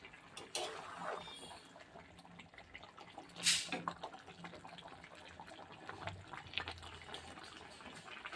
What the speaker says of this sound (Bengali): কি সুন্দর টক টক করে ফুটছে